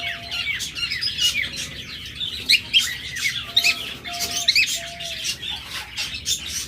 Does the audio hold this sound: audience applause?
no